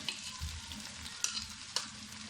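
Onions dropped into a pan of frying eggplant on a tawa, a low steady sizzle with a few sharp clicks and stirring scrapes, close and quiet, no talking.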